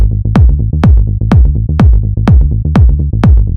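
Tech house synth melody with notes nudged off the grid for a swung groove: plucky, decaying notes repeating in a loose rhythm over a steady low bass, loud and alone with no talking.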